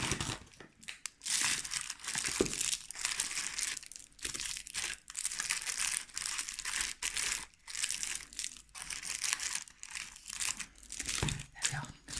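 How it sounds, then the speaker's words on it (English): Paper crackles and crinkles as wrapped sweets are dropped into a handmade paper gift box, with close, busy rustling bursts running almost continuously and no talk over it. "Oh, got some rustling. Let's get some sweets in there like that."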